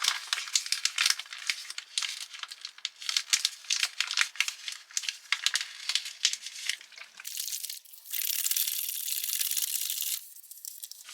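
Foil-laminated Swedish arctic ration food bag being folded over and handled after water is added, producing close, crisp crinkles and crackles in quick bursts, then a longer rustling crunch.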